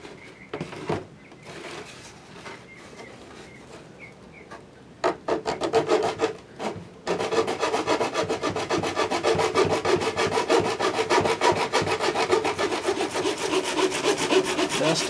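A hand saw cuts off excess plastic from a mouse droid's top shell, starting with scattered strokes and then settling into rapid, continuous rasping back-and-forth strokes, close and loud.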